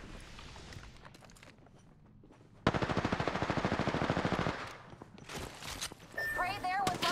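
Rapid automatic gunfire from an Apex Legends firefight rattles in a fast, even burst of shots lasting a couple of seconds, followed by scattered impacts and game sound effects.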